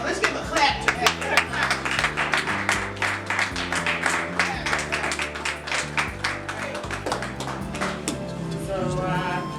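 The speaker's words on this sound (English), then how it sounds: "So Now let's give a clap to that." An audience at a women's history class claps together in a dense run of claps that lasts the whole stretch, with voices talking and calling out over the clapping.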